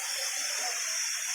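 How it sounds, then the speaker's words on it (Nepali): A small waterfall at Batise resort gives a soft, continuous rush of falling water, faint and even across the brief moment. "यो मिनी झरना हो।"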